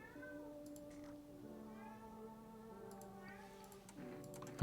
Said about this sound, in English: The cats are meowing.